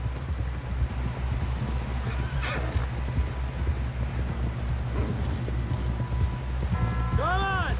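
A horse in Red Dead Redemption 2 whinnies loudly near the end, its hooves clip-clopping steadily throughout over a low rumbling game soundscape.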